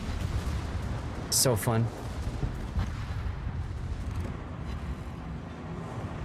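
Battleship secondary guns firing in World of Warships, a steady rumble of repeated booming volleys under a brief spoken comment.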